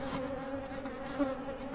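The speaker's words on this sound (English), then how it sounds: "Bees hitting my head." Bees swarm densely around a beehive, with a steady close buzzing hum that fills the moment and small louder passes as individual insects fly near.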